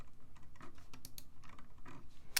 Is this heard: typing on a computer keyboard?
yes